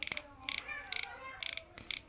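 Clicker on a Golden Fish Tiger B TB251 fishing reel ratchets in five short bursts of rapid, crisp ticking, separated by brief pauses, with no voices.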